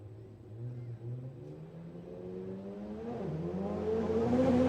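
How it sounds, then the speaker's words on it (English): Turbocharged drag racing car engine revving hard on a raceway during sports compact drag racing qualifying, a loud sustained roar that climbs steadily in pitch and grows louder over several seconds, with no voices. "We get to see, hear and smell the screaming turbocharged motors on track now."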